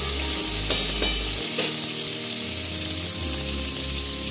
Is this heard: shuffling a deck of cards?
no